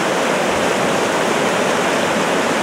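Waterfall and stream water pour steadily at a fishing spot, a dense, continuous broadband rush that stays loud and unbroken throughout with no voices.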